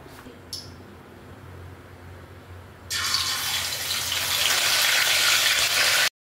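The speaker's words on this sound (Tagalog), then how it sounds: "Mag-start na tayo magprito" Parrotfish (molmol) hitting hot cooking oil in a pan, a soft background for about three seconds, then a sudden loud, bright sizzle that builds and holds steady until it cuts off abruptly.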